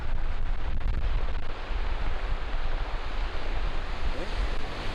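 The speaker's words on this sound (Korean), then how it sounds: "파도소리 들으며 걸을 수 있는 아주 멋들어진 해안 트레킹" Ocean surf rolls steadily along the Yangnam coastal trekking path near Eupcheon harbor in Gyeongju, South Korea, a continuous broadband wash of waves mixed with gusty wind noise on the microphone, with no talking.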